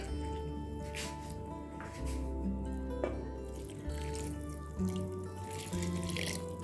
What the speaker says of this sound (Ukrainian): ще трошки води додавлю, бо боюсь, що буде замало